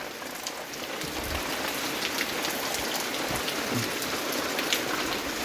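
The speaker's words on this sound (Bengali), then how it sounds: "অ্যাসবেস্টারে জলটা পড়ছে দেখেছো কোথায়?" Steady rainfall drumming on an asbestos roof, a continuous close patter of raindrops with scattered heavier drips, heard alone without voices.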